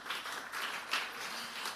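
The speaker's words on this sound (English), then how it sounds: "A round of applause for our second nominee." Audience at the ABAN Congress 2025 gives a round of applause for an award nominee, a steady wash of many hands clapping, moderately distant and fairly soft, with no voices.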